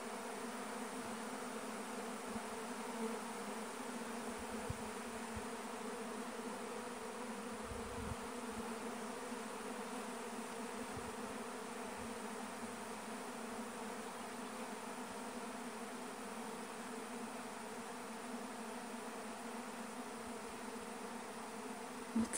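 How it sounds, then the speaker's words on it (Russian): A honeybee swarm hums steadily around a full bee trap outdoors in Siberia, a faint, even drone holding throughout with occasional low thumps nearby. "И сейчас вот эта полная ловушка, она будет полная пчел."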